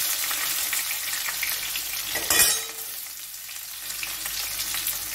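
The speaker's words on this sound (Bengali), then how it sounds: "পেঁয়াজটা ভালো করে ভেজে নিই।" Chopped onions fry in a pan for a Bengali bottle gourd and prawn dish, a steady close broadband sizzle with a brief louder scrape of stirring midway, no voices.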